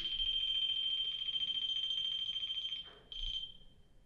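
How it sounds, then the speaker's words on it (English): A REM pod ghost-hunting device sounds its alarm, a steady piercing electronic tone that wavers, dips briefly near the end, then returns before fading, heard close up with no talking. "Now this essentially is like a REM pod."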